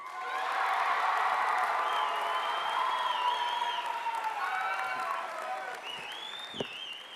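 Audience applause with cheering and whoops at a high school graduation ceremony, steady and broad throughout, crowd voices mixed in and a sharp sound near the end.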